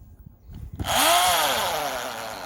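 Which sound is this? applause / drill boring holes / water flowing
drill boring holes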